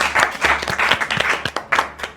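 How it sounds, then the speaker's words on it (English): Audience applause at a university quiz show semifinal, a brisk, loud burst of clapping in a hall that rises quickly and then tapers off. "A round of applause."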